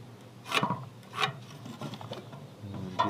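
Wood is cut around a flaw while making inexpensive 12-volt LED wall sconces for an RV. A few quiet, short rasping strokes sound nearby, with soft rubbing in between.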